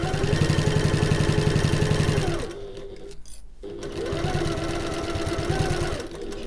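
A sewing machine top stitches a backpack in two close, rapid rattling runs separated by a brief pause with a clunk, the motor loud and steady in each run.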